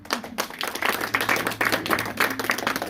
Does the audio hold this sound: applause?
yes